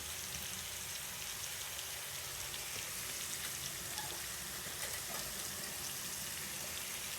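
Onion flower stalks sautéing in a pan with salt, pepper, cumin and turmeric give off a steady, dense, even sizzle, close and unbroken throughout.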